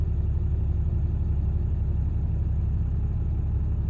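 A Cummins 6.7L diesel truck engine idles down to cool the turbo, giving a steady, close, continuous low rumble with no change in pitch and no voices.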